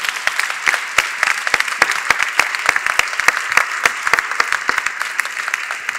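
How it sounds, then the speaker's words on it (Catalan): Steady applause from a cinema audience at a film presentation, dense clapping filling the whole stretch at an even, lively level with no voices standing out. "Un fort aplaudiment a tots plegats"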